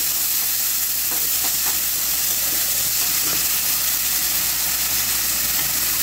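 Shrimp sizzle loudly in a hot pan, a constant close hiss of frying with occasional soft scrapes and clinks of stirring.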